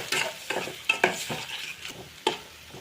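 Fried egg being stirred in a pan for Maggi noodles: rhythmic close scraping strokes of a spatula over a soft sizzle, several distinct sharp scrapes, no speech.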